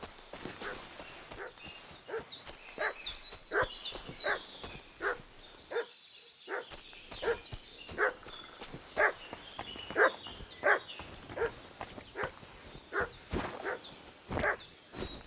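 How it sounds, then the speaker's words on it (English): Dog in Kingdom Come: Deliverance 2 barking repeatedly in steady bursts at moderate distance, with hoof clip-clop and footsteps mixed in, and a brief pause partway through. "What's that dog making such a fuss about?"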